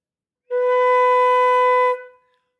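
A single flute note held steady for about a second and a half, clear and close, fading out gently at the end with silence around it.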